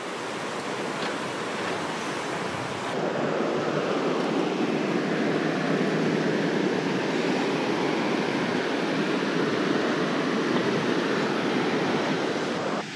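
Steady, loud rush of a river current flowing near waterfalls outside Moscow, a continuous broadband roar with no talk.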